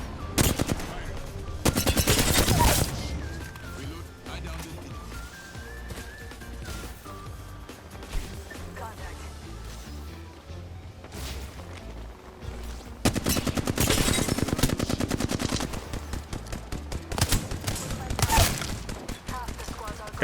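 Rapid bursts of video-game gunfire from play on a PS5 Pro controller, loud automatic volleys crackling in clusters over continuous in-game ambience and music, with brief spoken remarks mixed in.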